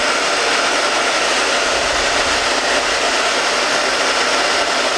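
A hair dryer on its cold setting blows over a patched repair on an inflatable product, giving a loud, steady, close-up whoosh of rushing air that holds unbroken from start to finish with no voices.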